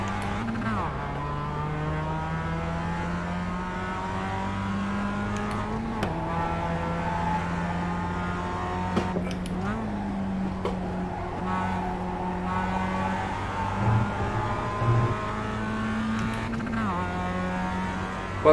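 A car engine revs hard through the gears, rising and falling in long sustained sweeps with brief shift dips, loud and continuous, with faint voices in the background.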